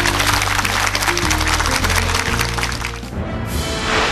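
Studio audience applause closes a Korean TV lecture program, with a dense, loud clapping crowd sustained for several seconds.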